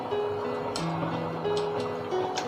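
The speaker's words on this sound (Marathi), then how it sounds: "तांदूळ घालून घेऊ." Rice poured into a pot of boiling water spiced with whole spices for chicken biryani, giving a steady bubbling, hissing rush with a few brief splashy bursts scattered through, fairly loud and close.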